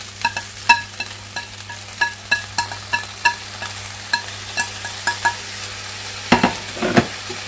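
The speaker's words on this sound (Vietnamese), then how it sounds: "Cô đảo lên chút xíu nữa cho nó đều lại với nhau." Precooked noodles and celery being stir-fried in a pan: a steady sizzle runs throughout beneath a repeated scraping and clinking of the spatula against the pan, close and fairly loud, with no talking.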